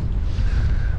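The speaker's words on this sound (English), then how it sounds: "It's a little windy today." Wind gusts across the microphone on a breezy, cool coast at a harbour, a brief, loud rumbling buffet.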